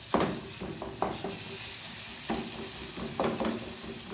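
Cooked onion-tomato masala is mashed and stirred in a hot pot, with soft sizzling under repeated scraping knocks of a utensil against the pot, heard close and without talk.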